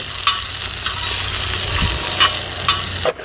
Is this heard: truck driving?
no